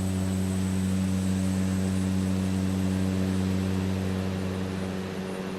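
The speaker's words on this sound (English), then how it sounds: "I'm doing the cargo variant of the Cessna Caravan." Steady, loud droning hum of a Cessna Caravan cargo variant's turboprop engine in Microsoft Flight Simulator 2024, a constant tonal cabin drone with airy noise and no talk.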